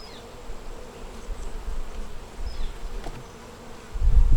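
Honey bees drone steadily around an open hive during a brood frame inspection, a continuous close buzz with occasional passing bees and a thump of handling at the end.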